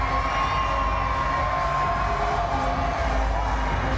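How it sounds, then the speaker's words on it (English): Crowd noise fills a basketball arena during a Calgary Surge at Edmonton Stingers CEBL game, a loud, continuous roar of cheering and shouting with no break. "Crowd making a lot of noise, sorry."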